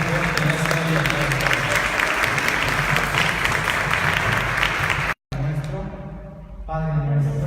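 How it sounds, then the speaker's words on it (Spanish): A church audience at a Catholic gathering gives loud, sustained applause, which breaks off briefly and then resumes with voices mixed in. "Un aplauso fuerte en esta vida."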